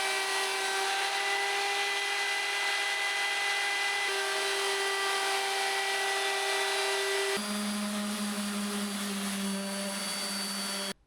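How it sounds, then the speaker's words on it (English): Electric router trimming the edge of a pre-fitted floor for a DIY IBC container shower, a steady high whine that holds loud and continuous, then drops in pitch about three quarters through as the bit bites harder, running alone. "Now it's time to route the edge"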